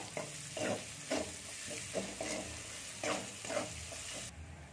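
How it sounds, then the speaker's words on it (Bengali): Garlic paste frying with onion in a pan, a soft continuous sizzle broken by rhythmic scraping stirs of a spatula every second or so, close but fairly quiet. "রসুনটা একটু ভাজতে দেবো।"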